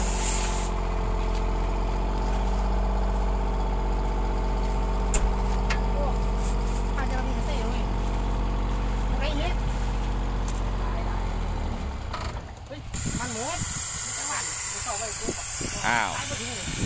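A steady mechanical hiss with a low droning hum runs continuously from an air compressor pump used by a sugarcane harvester crew, and a voice talks over it throughout.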